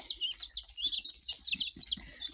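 A small bantam hen clucks softly and rapidly, mixed with high peeping chirps from her many chicks close by, in a village yard.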